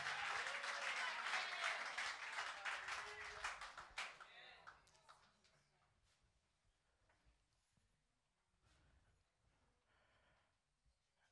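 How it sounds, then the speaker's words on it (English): A church congregation bursts into loud, dense clapping for a few seconds during a bilingual resurrection service, then the applause thins into scattered claps, shuffling and faint voices before fading to near quiet. "And clap for Jesus."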